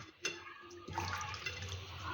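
Steady running water splashes and gurgles close by as taro leaves are washed under it, with a brief knock near the start and no voices.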